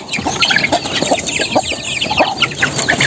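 Chickens clucking close by in a farmyard coop, a steady stream of overlapping clucks and short calls with no talk.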